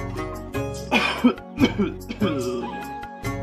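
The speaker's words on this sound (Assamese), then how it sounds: "মোৰ কাহটোৱে আকৌ বৰ দিগদাৰ কৰে নহয় পুৰণি কাহ" A person with a chronic, long-standing cough coughs a few times in short, harsh bursts, mixed with throat clearing and brief pauses.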